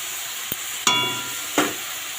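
Food sizzles steadily in a pan under a lid, a continuous close frying hiss broken by three sharp knocks or clatters from utensils or the lid.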